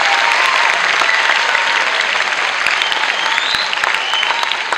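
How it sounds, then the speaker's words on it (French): Audience applause at a French school arts event, a dense, loud, continuous wash of clapping from a large crowd lasting the whole stretch without a break. "Est-ce que vous pouvez applaudir,"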